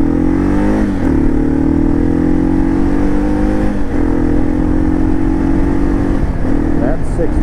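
A 2012 Kawasaki KLR 650 motorcycle pulls hard up a hill, its loud close engine note climbing steadily through the gears with brief dips at each shift and wind rush throughout.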